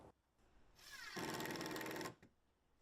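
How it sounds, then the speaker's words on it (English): A power driver whirs steadily for about a second as a small screw is driven into pegboard for a bike rack, a quiet buzzing run with faint handling noise before and after. "I'm just going to use some of these holes and drive a few screws right around it, make sure it's nice and tight."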